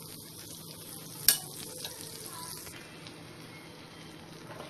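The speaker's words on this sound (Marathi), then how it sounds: "आपण आता ते एका बाजूने छान फ्राय करून घेऊ, नंतर त्यांना दुसऱ्या बाजूने चांगलं परतून घेऊ।" Chicken mayo sandwiches frying in a pan, a soft steady sizzle with a sharp clatter early on and occasional light scraping, quiet and close.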